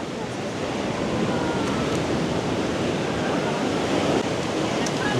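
Ocean waves break on a surf beach on Koh Samui, a dense, continuous roar of surf that stays loud and steady throughout, with no voices present.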